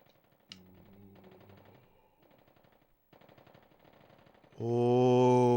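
Armed enemies in the game Resident Evil Survivor fire in rapid machine-gun bursts, a rattling stutter that stops and starts in short runs, ending in a loud sustained blaring tone, with no voices.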